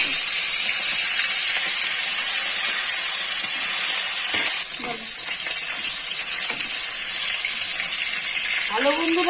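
Steady loud sizzling and hissing of fish frying in hot oil, continuous throughout, with a voice speaking briefly near the end.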